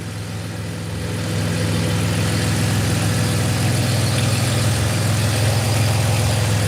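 A BMW E85 Z4 engine idles steadily with a low, even rumble after a DISA valve replacement, free of vacuum leaks, getting a little louder after the first second and holding constant.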